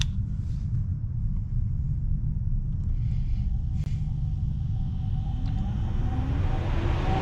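An ECM blower motor driven at 100% by a test tool powered from a 24-volt source, giving a steady, continuous low rumbling hum that holds at constant level throughout with no speech.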